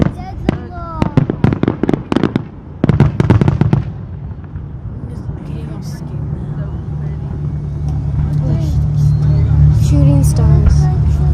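Fireworks explode at the Idaho Center in a quick run of sharp cracking bangs, then fade under a growing rumble of crowd noise and traffic, with people talking nearby.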